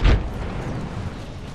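A frag grenade goes off in the shooter Apex Legends, one heavy boom at the start that settles into a lingering low rumble and rushing noise.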